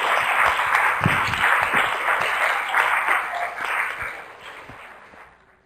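Applause from a meeting audience for panelists, a broad crackling wash of clapping that holds steady for several seconds, then thins and fades toward the end.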